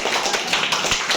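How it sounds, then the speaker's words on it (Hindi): An audience claps together in a short burst of steady, brisk hand claps, close and fairly loud with no talking. "तो ताली बज जानी चाहिए यार"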